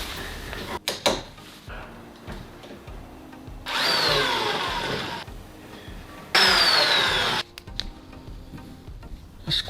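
Excess material being cut off on a boat during outfitting work, with two sustained whirring bursts of a power tool up close between clicks and handling knocks.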